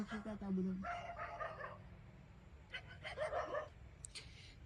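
Dogs bark at night in a deserted, quiet area, two separate bursts of several barks each, moderately distant, with a voice faintly present.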